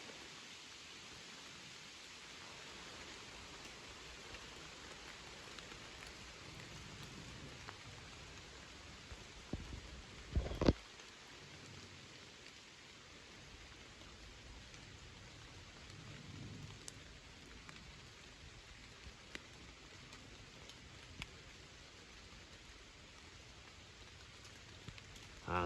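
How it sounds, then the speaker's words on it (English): Steady rain pours down on a hiking trail, a dense, even wash of noise with a few sharper knocks and a brief louder burst near the middle. "Now the rain's getting loud."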